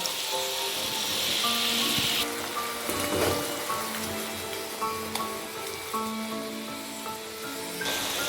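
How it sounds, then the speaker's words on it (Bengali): Steady sizzling in a hot pan as a mix of fresh cream and tomato puree thinned with water goes into frying chana paneer masala spices, a continuous hiss with light bubbling and stirring clinks throughout. "হাফ চামচ ফ্রেশ ক্রিম, হাফ চামচ টমেটো পিউরি জলের সাথে মিশিয়ে রেখে দিয়েছিলাম, সেটা দিয়ে দিচ্ছি"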